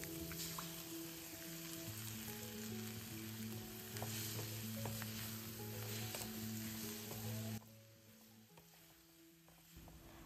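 Beans and egg poriyal sizzles and crackles steadily in a pan while being stirred, with occasional scraping. The sizzle stays loud, then drops sharply quieter near the end.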